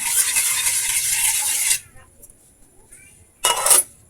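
Garlic and ginger sizzle loudly in hot cooking oil in a pan for nearly two seconds, fall almost silent, then flare up again in a short burst.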